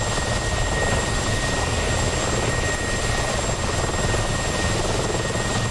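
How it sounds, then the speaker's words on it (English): A hostile Mi-24 attack helicopter in the DCS combat flight simulator thunders with a dense, steady rotor and turbine roar that stays loud and unbroken, with no voices. "That's a hostile Me-24."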